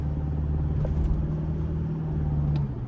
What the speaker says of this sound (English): Ample power and enough shove from the diesel engine